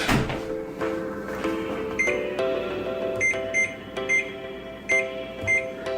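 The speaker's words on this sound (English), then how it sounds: "let's put our timer on" Kitchen-style timer being set for fifteen minutes, a series of short bright beeps at irregular intervals over a steady background hum, fairly close, with no talking.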